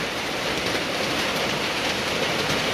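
Steady heavy rain pours down in a storm, a dense, even hiss of drops on surfaces that holds at constant loudness throughout with no voices.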